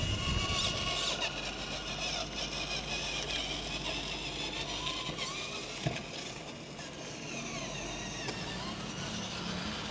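A small electric motor in an RC toy tractor whirs steadily with a thin high whine and faint rattling, running continuously nearby with no talking.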